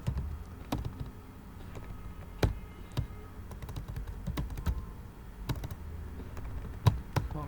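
Typing on a computer keyboard, a continuous run of quick, fairly close key clicks with a few sharper taps, heard alone with no speech.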